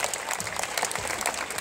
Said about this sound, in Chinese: 大家拍拍手给这两位观众鼓励一下